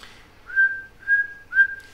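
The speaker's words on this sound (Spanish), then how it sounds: "Silbando." Three short, clear whistled notes at a steady pitch, close and distinct, with no talk.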